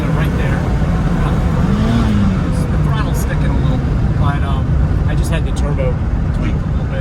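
A 1988 Lancia Delta HF Integrale's turbocharged engine, with a slightly sticking throttle, drones loudly and continuously up close while someone talks over it.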